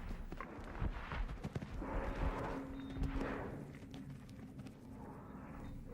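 A horse gallops toward a jumping fence, its hoofbeats a steady rhythmic drumming at moderate distance with soft breathy rushes, no talk.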